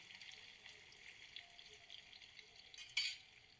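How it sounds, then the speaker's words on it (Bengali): Paneer cubes frying in hot oil in a home kitchen, a quiet, continuous sizzle with a brief louder crackle near the end. "তেলে আমি পনিরগুলোকে ভেজে নেব।"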